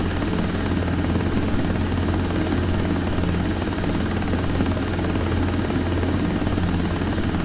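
A helicopter in a desktop flight simulator game drones steadily, its rotor thrum and engine buzz loud and constant throughout, with no speech over it.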